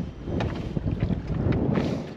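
Strong wind roars and buffets the microphone aboard a boat on Liepāja lake, a loud continuous gusting rush with splashy swells.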